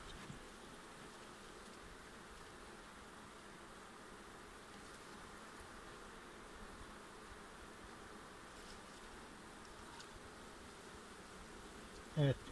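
Honeybees hum steadily and densely around an open hive during an autumn inspection. The buzzing is continuous and fairly soft, with a faint room-like hiss underneath and no talking.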